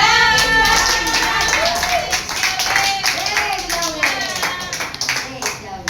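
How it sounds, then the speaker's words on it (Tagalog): Congregation clapping at a charismatic prayer meeting, a dense run of hand claps that carries steadily across the whole stretch beneath a loud voice and singing. "Maraming palakpak."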